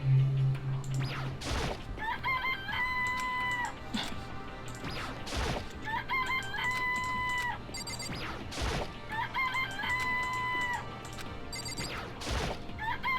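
Rooster crowing in the video game Danganronpa repeats in a loop. Several fairly loud crows each follow a sharp crashing hit, at regular intervals over a constant background tone.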